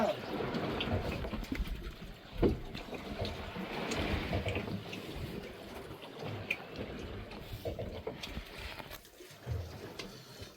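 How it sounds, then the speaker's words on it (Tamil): Rainwater pours down and runs across a boat out at sea, a steady broadband wash with a few louder splashes and drips rising above it, close and continuous throughout. "மழை பெஞ்ச தண்ணிக்கு வெள்ள தண்ணி விழுந்து ஓடுது நல்லா"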